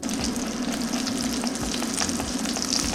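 A dense, loud sizzle of a patty frying undisturbed in a hot pan, steady and continuous throughout with no voices.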